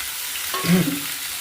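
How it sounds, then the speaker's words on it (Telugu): Tomatoes dropped into hot oil in a kadai, a short close sizzle that swells briefly mid-way over a steady frying hiss. "ఆయిల్ హీట్ అయినాక టమాటాలు వేసుకోండి"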